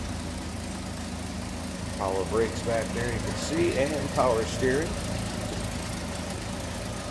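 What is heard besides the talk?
1968 Ford Mustang 200 cubic inch inline 6 engine idling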